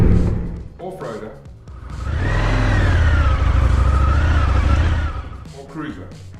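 An Indian FTR1200 motorcycle engine revs up loudly nearby, climbing and holding a high growling pitch for a few seconds before dropping off, with a voice talking before and after.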